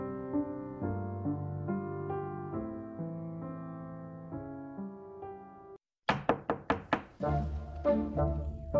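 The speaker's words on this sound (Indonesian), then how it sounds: "Ada yang mengetuk." Someone knocks on a door during a domestic drama, a quick series of about five firm, close raps that comes right after soft background music cuts out, with a few more knocks after a short pause.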